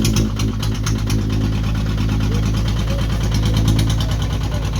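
A six-wheeled truck engine runs steadily after a gear shift, a loud, close, continuous rumbling drone with rhythmic vibration throughout.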